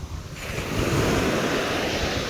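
Sea waves breaking and washing on the shore at Porbandar, a dense continuous roar that swells after a brief quieter start, with some wind across the microphone.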